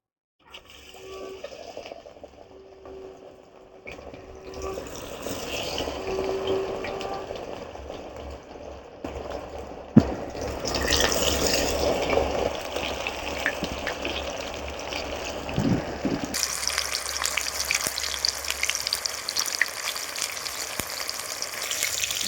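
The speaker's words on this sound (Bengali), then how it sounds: "এবার আমি টমেটোর চপগুলো ভেজে নেব" Tomato chops deep-fry in a pan of hot oil, a continuous loud bubbling hiss that swells as more pieces go in, with an occasional clunk of a utensil and no speech.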